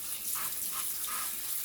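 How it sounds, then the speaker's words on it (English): Cold tap water running over cooked potatoes to stop them cooking, a steady rushing splash with a few soft gurgling pulses, close and constant, no speech. "we're gonna go ahead and put a little cold water on these potatoes and cool them off"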